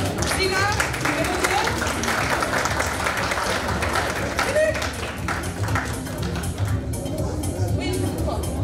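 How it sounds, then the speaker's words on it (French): An audience applauds at an International Francophonie Day celebration, lively clapping mixed with crowd chatter and voices talking throughout. "on peut l'applaudir encore, bravo"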